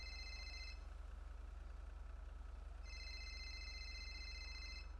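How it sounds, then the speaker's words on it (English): Phone ringing in two electronic trills separated by a pause, heard fairly softly over a constant low hum. "That's his phone, dude."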